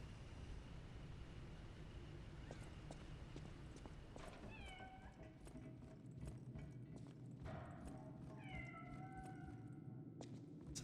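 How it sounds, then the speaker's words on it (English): A cat meows a few times, soft and high, over a steady ambient soundtrack with clip-clop hoofbeats in the background, in the video game Lies of P. "Sweet little cat got off with me."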